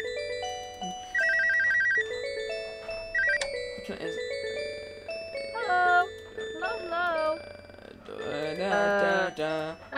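Inside the video game, a telephone ring trills in short, repeated electronic bursts, mixed in among game sounds and warbling tones that rise toward a busy, louder stretch at the end.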